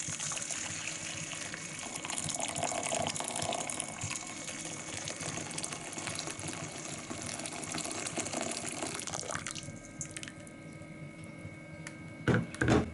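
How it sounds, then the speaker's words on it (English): Hot water is poured from a kettle or tap into a bowl of chocolate for melting. It makes a steady, continuous gushing pour that runs for several seconds and then changes tone and tapers, followed by a few light clinks. "Just pour some hot water."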